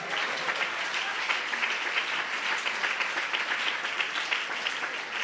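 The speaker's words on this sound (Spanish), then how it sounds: "Dale un aplauso al Señor." A church congregation applauding during a Spanish-language service, dense and even clapping that continues loudly for several seconds without pause.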